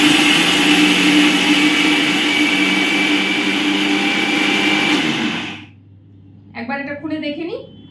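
A mixer grinder runs loud and steady, grinding parboiled rice and red lentils into a paste for a homemade body scrub, then cuts off abruptly near the end, followed by someone speaking briefly.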